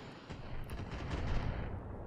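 Mech weapons firing in the video game BattleTech, a short dense volley of rumbling blasts and crackling shots that builds to a loud boom, then trails into a fading rumble.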